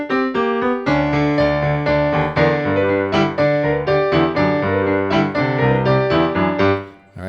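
Solo piano plays a rolling, driving boogie-woogie groove in G, with a steady bass line under bright chords, loud and close before stopping at the end.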